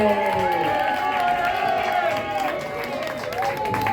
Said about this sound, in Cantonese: 我哋俾最大嘅愛心掌聲，耶！